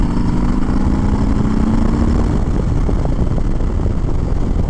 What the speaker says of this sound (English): you crack the throttle and you go